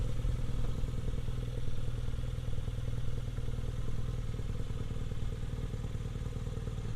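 A 2017 BMW R nine T Racer cafe racer motorcycle idles close by, its boxer engine giving a steady, loud, low pulsing throb with fine mechanical clatter, running alone without talk.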